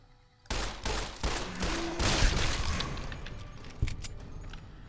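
Rapid 10mm pistol fire in Fallout New Vegas, a burst of sharp repeated shots beginning abruptly after half a second and continuing with clatter and echo, loud and close with no voices.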